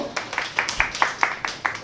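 A small group claps in a quick, even rhythm of about eight sharp claps at an outdoor organic industry expo event, close and clear.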